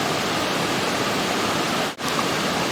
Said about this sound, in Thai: นอนฟังเสียงน้ำตกทั้งคืนเลย